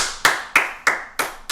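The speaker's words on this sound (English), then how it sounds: "Give me a nice, good clap, though," Hand claps used to sync a camera on a podcast set: four sharp, evenly spaced claps, each with a short decaying ring, close and alone.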